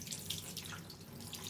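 Warm tap water runs steadily into a sink while rinsing a wet cat, a close, continuous splashing gush with small spattering variations and no speech.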